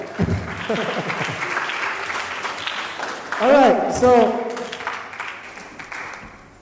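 Audience applause at a municipal local government lecture, a broad wash of clapping running under speech and laughter-like voices, with a brief louder swell midway.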